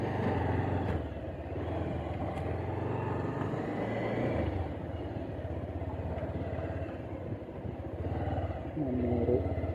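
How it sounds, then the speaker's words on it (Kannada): A motor vehicle, likely a motorcycle or car, rumbles steadily along a road near a view point, its low engine drone filling the whole stretch at moderate level without speech. "ಅದೊಂದು ಗಾಡಿ ಐತೆ ಗುರು,"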